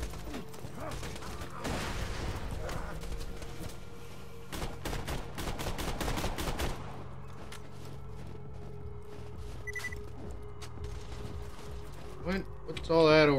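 Shotgun blasts in Borderlands 2, several loud separate booms clustered in the middle, spaced irregularly amid game ambience and mechanical clatter, with a voice talking at points.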